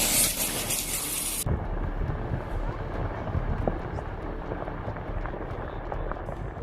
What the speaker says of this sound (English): hailstones.